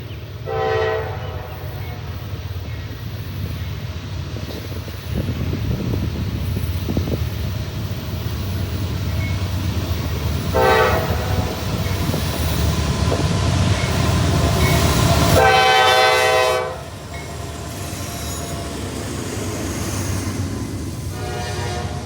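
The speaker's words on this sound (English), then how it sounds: "Trains like this have been passing through Millbury for decades" Train passing through Millbury, Ohio, with a steady loud rumble of cars throughout and horn blasts sounding, one short and one longer near the end.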